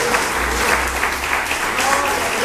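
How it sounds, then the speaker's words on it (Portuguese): Loud, dense applause fills a church service, steady clapping from a congregation with voices mixed in underneath throughout. "Eu aplaudi bem forte."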